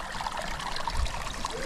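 Dirty water gushes steadily from a broken village supply pipe in the hills after rain, a continuous close trickling and splashing flow with no speech over it.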